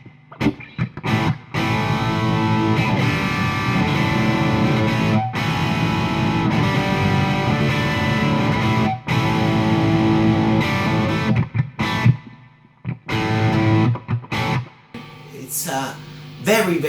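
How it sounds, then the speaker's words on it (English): Electric guitar played through an aggressive, violent-sounding distortion pedal: thick, saturated chords ring out loud and sustained, with brief breaks between phrases and a choppier, thinner passage near the end. "it's a very aggressive and violent pedal."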